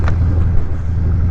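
Harley-Davidson Road Glide with an aftermarket exhaust pulling hard under acceleration, a loud, steady low-end engine roar with wind buffeting across the whole short stretch.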